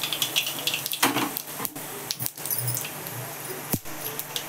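Cumin and mustard seeds splutter in hot oil, a close, crackling patter of quick pops and hiss with a few sharper snaps, and no voices.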